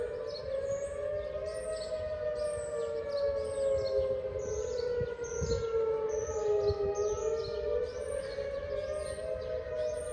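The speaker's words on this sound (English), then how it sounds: "Those are the tornado sirens." A long, steady tornado siren wails, its pitch slowly rising and falling, loud and continuous with no voices over it.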